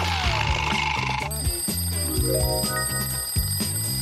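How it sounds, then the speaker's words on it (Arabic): A mechanical alarm clock rings loudly and steadily in a rapid, continuous metallic trill, set in a domestic scene. "أنت تعرفين ما يعنيه هذا المنبه؟"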